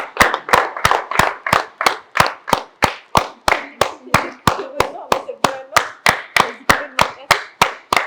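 Rhythmic hand clapping, loud and close, about two to three claps per second held steadily throughout, with faint murmuring voices underneath.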